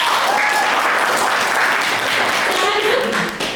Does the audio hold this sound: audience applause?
yes